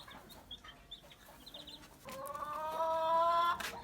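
Soft scattered clucks from an Aseel hen, then a loud drawn-out crow from a nearby white Aseel rooster that ends abruptly.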